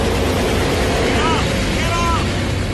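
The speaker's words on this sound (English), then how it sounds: "I heard the engines rev, and we made a really hard, sharp left-hand turn." Boeing 747 jet engines rev with a dense, steady roar, loud and close, filling the whole short stretch without a break.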